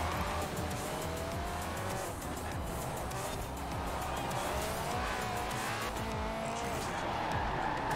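Racing cars in Forza Horizon 4 driving hard, a continuous loud engine roar with tire squeal and skidding swells, close and sustained for the whole stretch, without any talk.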